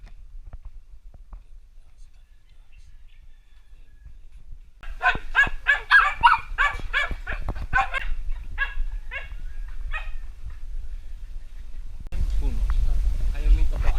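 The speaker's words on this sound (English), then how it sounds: "We got some lovely dogs here." Several dogs bark and yelp in a busy cluster nearby, loud and overlapping, fading into scattered barks, followed by a rumbling background noise.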